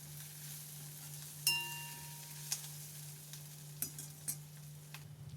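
Onions, tomato and curry leaves frying in a pan for poori masala, a faint steady sizzle broken by several light metallic clinks and scrapes of a spoon against the pan.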